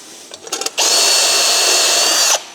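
A power drill bores a roughly 8 mm hole during a water-methanol injection install on a Ford Falcon BA, opening with a few short stuttering bursts, then one loud, close, sustained high whine lasting about a second and a half before cutting off.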